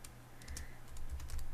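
Quick, light clicks of a computer keyboard as a name is typed in, a close burst of keystrokes that grows slightly busier toward the end.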